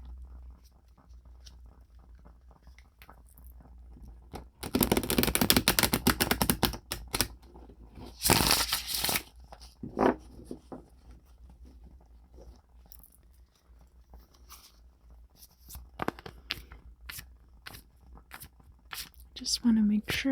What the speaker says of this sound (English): Good shuffle on these cards.